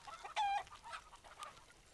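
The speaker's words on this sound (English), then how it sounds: "This is the mother hen, and this is the baby." A mother hen with her chick on a farm gives a short sharp cluck followed by softer scattered chirps and clucks, faint and fairly close in a quiet setting with no talk.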